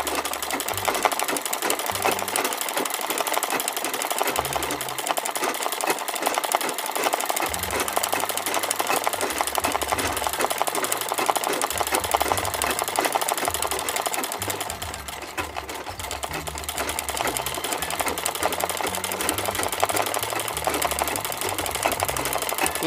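A sewing machine stitches dense embroidery for a flower center in brown thread, a steady, busy mechanical whir that runs continuously and close up with a brief dip partway through.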